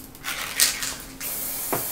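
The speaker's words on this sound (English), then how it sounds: "that cap is spraying in an odd pattern" Spray paint can with a fresh cap, releasing short close hissing bursts during a painting session, with a couple of light clicks between sprays and no speech.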